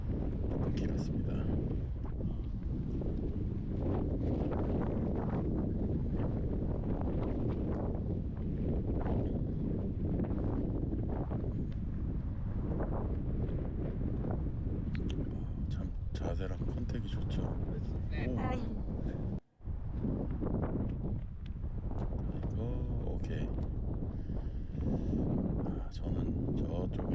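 Strong wind buffets the microphone on a golf course, a constant loud roar with no break except one brief dropout, and voices talk over it.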